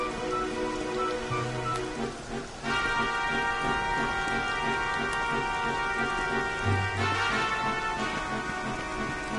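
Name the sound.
rain in the video game Dragon Quest XI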